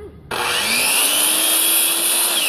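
A power saw cuts through shed wall sheeting, starting abruptly and then whining steadily and loudly at close range as the blade runs through the panel.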